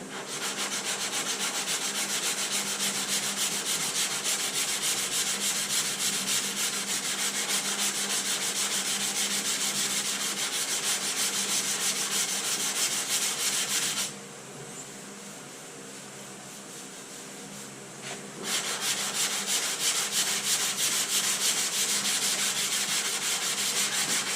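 A hand block with 80 grit sandpaper sands body filler on a car body. A steady, close rasping scrub runs continuously, drops to a quieter pause partway through, then resumes at full strength.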